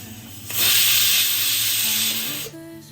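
Pressure cooker whistling while potatoes cook, a single loud sustained steam hiss that bursts in abruptly, holds for about two seconds and then cuts off, with faint kitchen hum beneath.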